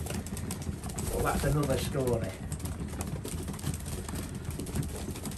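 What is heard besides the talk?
racing pigeons in the loft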